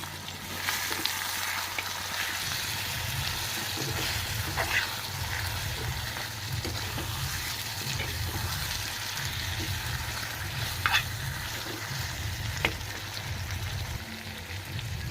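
Mutton curry for a South Indian style dish sautéing uncovered in a pan over high-medium heat, a steady continuous sizzle with occasional faint clinks of stirring, no talking.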